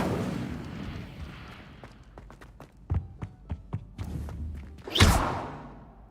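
An Incendio fire spell cast in Hogwarts Legacy: a series of sharp thumping blasts and cracks that build to a loud whooshing burst near the end, over rumbling game ambience.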